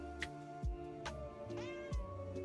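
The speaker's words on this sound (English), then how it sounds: "I'm glad these cats don't meow as much" A cat pet meowing in the game Path of Exile 2, several short meows with rising and falling pitch, fairly quiet against faint background tones.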